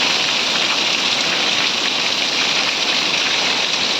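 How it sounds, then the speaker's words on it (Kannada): Heavy rain pours down steadily in a continuous dense hiss, loud and close, with no voices over it. "ಗಾಳಿ ಬರ್ಸ ಭಾರಿ ಜೋಡು ಬರೋಂದುಂಡು"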